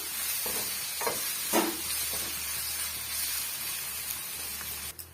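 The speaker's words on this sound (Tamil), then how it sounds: "நம்ம சேர்த்திருக்க வெங்காயம் இஞ்சி பூண்டு பேஸ்ட் எல்லாம் நல்லா வதங்கி வந்துடுச்சு" Onion with ginger garlic paste sautéing in a pan for an egg gravy, giving a steady close sizzle and hiss with a few scraping stirs, no voices.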